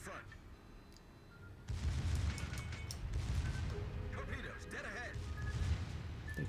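Secondary battery guns aboard a warship in World of Warships booming over a steady rumble, with a continuous dense barrage after a sudden jump in loudness, while a person talks over it.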